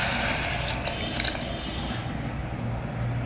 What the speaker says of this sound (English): At this stage, we will pour in this tamarind extract.